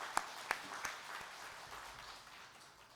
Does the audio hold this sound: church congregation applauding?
yes